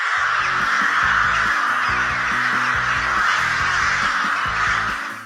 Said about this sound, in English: If you saw hundreds of crows gathering on the streets of Kyoto and Honshu